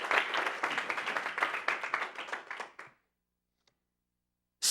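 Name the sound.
audience applause in church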